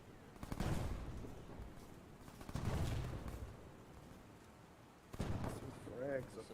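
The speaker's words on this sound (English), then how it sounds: "There's mortars coming in. Eight shells." Mortar shells land in the video game Arma 3 as a series of heavy, rumbling impacts spread over several seconds, faint and distant, with voices talking over them.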